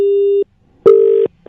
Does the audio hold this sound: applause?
no